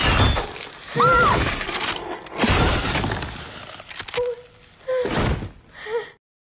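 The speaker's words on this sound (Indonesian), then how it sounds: "langsung memecahkan pintu kaca agar ia dapat memangsa mereka" Glass shatters as a monster smashes through a glass door in a zombie film, with crashing impacts, a creature's shrill cries and sharp breaking bursts spread over several seconds before a sudden cutoff.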